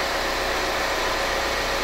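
Hyundai Santa Fe engine idling during a scan-tool diagnostic test, a steady, even drone with no change in pitch or level, heard alone throughout.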